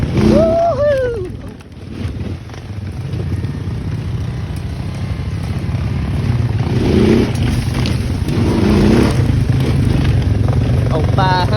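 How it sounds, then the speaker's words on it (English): ATVs, a Honda 500, a Yamaha Kodiak and an old Honda 400EX, run along a muddy off-road trail in Ohio at night, a loud, steady engine drone with brief revving surges, plus wind noise and a voice shouting early on. "Oh, 500 running strong. Got the Kodiak running strong."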